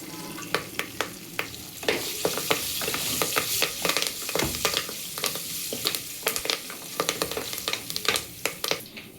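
Curry leaves crackling in hot oil in a pan for a vegetable masala sagu, a continuous close sizzle broken by sharp pops and spatters, with no talk.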